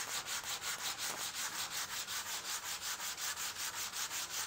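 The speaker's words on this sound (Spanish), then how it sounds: "Hago un buen lijado" Rhythmic sanding of a small wooden plug set over a screw hole in a folding bench, steady back-and-forth rasping strokes repeating evenly, close and alone.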